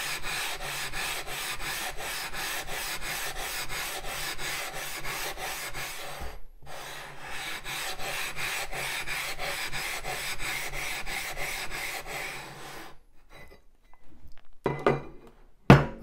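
Sharpening stone rubbed back and forth on a Diaflat diamond flattening plate, a steady close abrasive scraping in even rhythmic strokes for about twelve seconds, then a pause followed by a few lighter, scattered scrapes.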